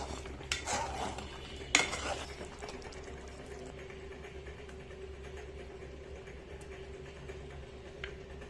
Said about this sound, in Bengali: আমি এখন মুরগির মাংসগুলিও কষা নেব